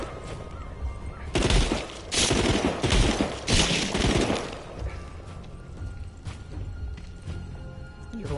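Gunfire in The Walking Dead VR game: a dense run of loud bursts and cracks for a few seconds, followed by quieter mechanical clatter and handling noises, with faint speech in the background.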